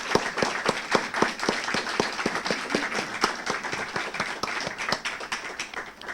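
Audience applause fills a presentation hall, dense rapid clapping from many hands at moderate level, sustained and even throughout with no voices over it.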